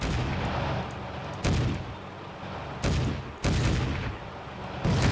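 Gunfire and artillery in the World War II strategy game Blitzkrieg 2 boom out in loud, repeated blasts about every second and a half, over a continuous rumble of battle noise, with no voices.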